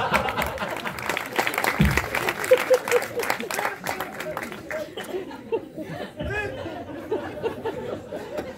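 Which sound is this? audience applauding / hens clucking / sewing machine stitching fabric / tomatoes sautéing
audience applauding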